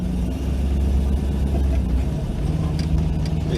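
An LS1-swapped Dodge Stealth drives along with a steady, low engine drone and road rumble, heard close from inside the car without talk.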